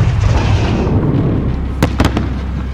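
Explosion in Call of Duty: Modern Warfare during a nighttime firefight under illumination flares: a loud, continuous rumbling blast with a few sharp cracking pops near the end.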